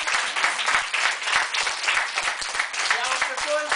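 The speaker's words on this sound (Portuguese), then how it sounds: "uma salva de palmas" Steady applause from a small audience at a philosophy workshop in a school library, dense clapping that continues throughout, with a voice heard near the end.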